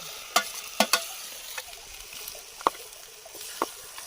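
Chicken stirred and frying in a kadhai, cooked outdoors by a stream, with scattered scraping clinks of a spoon against the pan over a soft sizzle, fairly faint, with no talk.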